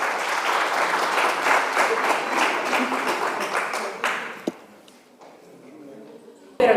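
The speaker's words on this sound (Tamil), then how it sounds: "ஃபர்ஸ்ட் ஆஃப் ஆல் அவங்களுக்கு ஒரு பெரிய கரகோஷம் கொடுங்க" An audience at a community event supporting education for poor students breaks into loud, dense applause that rolls on for several seconds, then fades away, leaving quieter murmuring and a few sharp knocks near the end.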